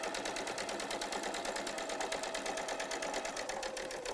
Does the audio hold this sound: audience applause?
no